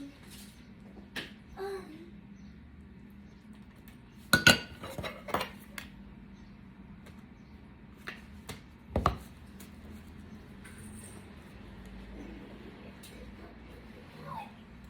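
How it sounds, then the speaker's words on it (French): A knife clinks and scrapes against dishes while spreading thick cream onto bread for bruschetta, with a cluster of close utensil knocks midway and another sharp tap later over a quiet room hum. "je viens donc tartiner avec de la crème épaisse"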